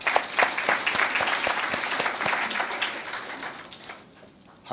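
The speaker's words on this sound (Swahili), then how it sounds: "Tujipigie makofi." An audience applauds the private sector at a Tanzanian Prime Minister's event: a steady, dense wash of many hands clapping that fades slightly toward the end.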